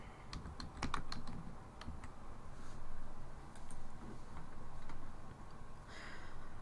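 Keystrokes on a computer keyboard while entering a search term, sounding as irregular clicks and taps at close range over a steady background hum, with no one talking.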